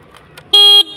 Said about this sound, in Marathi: हॉर्न वाजव बाळा